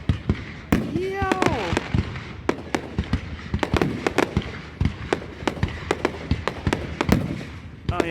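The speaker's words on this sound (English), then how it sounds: "Next year, Zenny and them probably going to want to come up here for the fireworks." Fireworks display at Montage Mountain: a rapid, irregular barrage of sharp bangs and crackling bursts, loud and fairly close, with people talking and exclaiming among the explosions.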